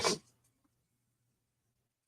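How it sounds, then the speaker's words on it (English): A single sharp sneeze bursts out at the start, then fades into near silence with a faint low hum. "As I sneeze again."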